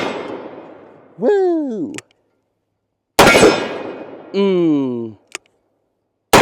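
A revolver fitted with a Midwest Industries brace fires one loud, sharp shot with a ringing tail, following the fading tail of an earlier blast. Close whooping vocal sounds come before and after, and a short murmur follows.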